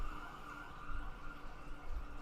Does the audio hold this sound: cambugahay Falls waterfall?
no